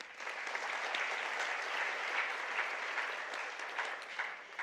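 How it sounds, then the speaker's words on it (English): Guests at Pooja's Arangetram give her another round of applause, a steady, moderately distant patter of many hands clapping throughout, with no voices over it. "I think she deserves another round of applause"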